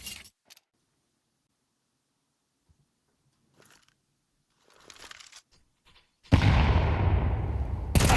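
A grenade blast in a CS2 match, heard as a loud sustained roar that bursts in after long near-silence broken only by faint scattered taps, likely gunfire, and then holds loud to the end.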